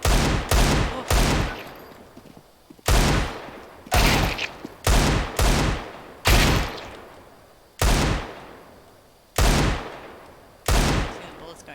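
Gunfire in Counter-Strike: Global Offensive: loud, sharp bursts of shots repeat in irregular clusters, each shot decaying briefly, with near-constant firing across the exchange and no talk.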